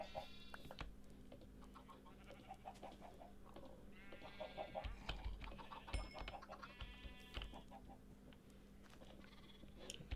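Blocky farm chickens in Minecraft Hardcore Survival cluck in short, scattered bursts over steady game ambience, fairly faint and with no talk.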